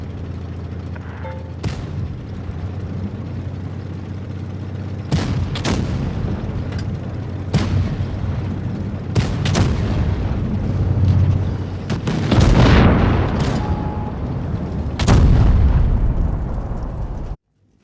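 A Swedish Kranvagn tier X heavy tank fires its cannon in World of Tanks Blitz, with several loud booming shots spaced a few seconds apart over steady engine and game noise.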